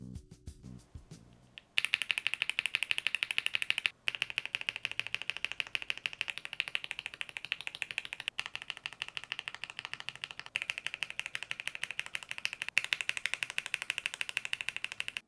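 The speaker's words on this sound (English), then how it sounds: "I experimented with a bunch of switches to roughly get the idea of how the board sounds with different switches" Fast, steady typing on a Leo80 custom mechanical keyboard fitted with assorted switches: a dense run of crisp clicky keystrokes, close and continuous, with a few brief pauses and no talk.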